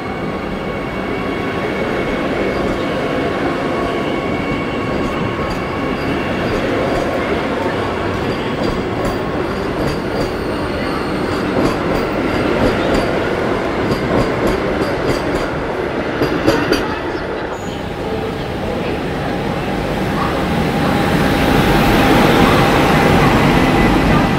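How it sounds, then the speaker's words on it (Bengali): A train pulls out of Balasore station bound for Puri, its steady loud rumble and wheel clatter filling the scene close by. The rolling noise swells slightly toward the end as it gathers speed. "ট্রেন এখন রওনা দেবে পুরীর উদ্দেশ্যে"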